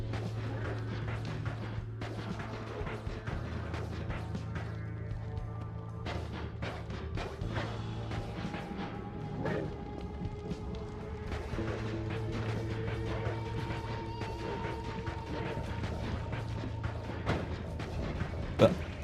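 Exploding projectiles in the wizard game Noita, heard as a dense run of repeated crashing blasts and impacts over a steady low drone, continuous for the whole stretch with no talk.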